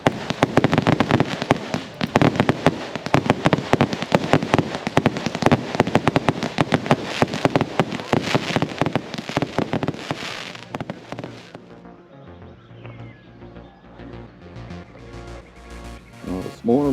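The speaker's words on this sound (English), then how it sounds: "Fireworks show would have gone on for a good 20 minutes." A fireworks show bursts in rapid, dense volleys of loud bangs and crackles for about ten seconds, then thins into scattered distant pops over a lower background murmur.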